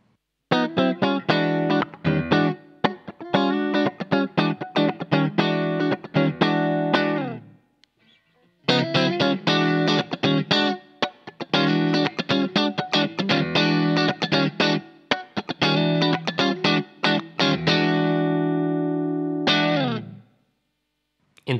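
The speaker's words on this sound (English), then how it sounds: "Over here, we have the Ultimate Comp, which is a compressor." An electric guitar played through a Donner Ultimate Comp compressor pedal, with even, sustained strummed chords and picked phrases in two long passages separated by a brief gap. A final chord rings out.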